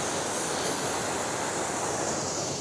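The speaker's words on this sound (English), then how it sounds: "I love how the water's just flowing over the top of it." Water pours steadily over a rock at a waterfall in the Otways, a loud, constant broadband rush filling the whole clip with no pauses or voices.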